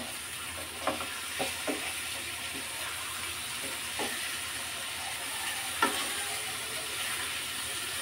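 Fish pieces flipped in a pan of spice masala keep up a soft, even sizzle, punctuated by several light taps and scrapes from a spatula, with no one talking.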